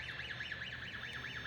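A Lift Hero CPD30 6,000 lb electric forklift sounds its startup alarm, a faint warbling electronic tone that rises and falls in a steady, continuous sweep with no talking.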